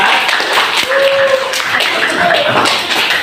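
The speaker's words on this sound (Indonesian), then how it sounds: "Tepuk tangan buat kelompok 4." A school class claps together, a dense patter of hands with some chuckling mixed in.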